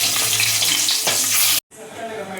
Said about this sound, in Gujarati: મરચાઈ તળી દીધા